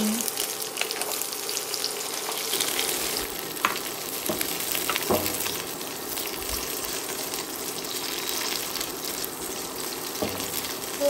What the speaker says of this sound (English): So lagay tayo ng 1/4 cup na oil. Yan. So shallow fry lang natin to.